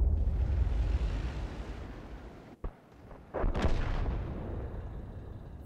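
A loud tank cannon shot from an AMX 13 F3 in World of Tanks booms over a steady rumbling engine drone, followed by a brief crackling burst, game-like and close.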